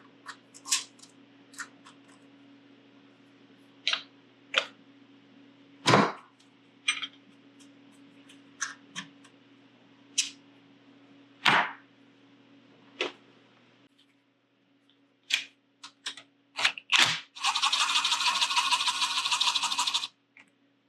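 A 16 mm wrench loosens bolts on a 2021 VR1 snowmobile during a track kit upgrade: sparse, quiet metallic clicks and taps at irregular intervals, ending in a brief stretch of louder scraping and rattling.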